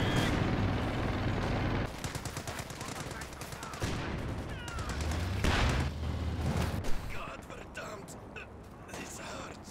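An artillery counter barrage in the strategy game Company of Heroes 2 keeps up a dense, continuous clatter of gunfire and booming shell bursts, steady and loud throughout.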